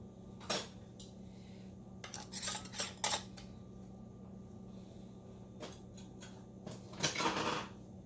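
Metal canning rings clink and rattle as they are screwed onto small jars of hot peppers, a few scattered sharp metallic taps and scrapes in a quiet kitchen.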